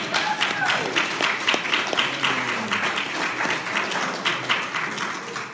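Mourners at a memorial service break into clapping, a moderate, even round of applause from a gathered group lasting several seconds, with some voices beneath it.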